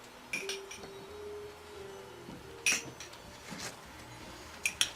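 Metal spoons clink lightly against dishes in a home kitchen while ice cream is being made, a few sharp, brief chinks scattered over a quiet background.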